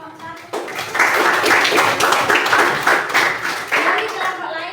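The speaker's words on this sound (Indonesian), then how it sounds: "Tepuk tangan untuk kelompok 1." Classroom of junior high school students clapping for a student group, a burst of close, dense hand claps lasting several seconds that swells and then tapers.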